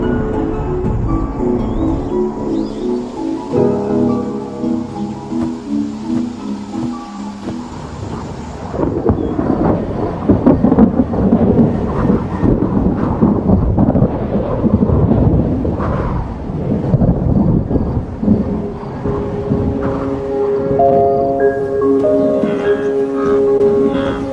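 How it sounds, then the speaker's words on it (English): Thunder rolls and rumbles over a wash of heavy rain sweeping across parched plains in Zambia, building louder midway, with tonal musical notes at the start and end. "A curtain of rain sweeps across the parched plains, finally breaking the drought."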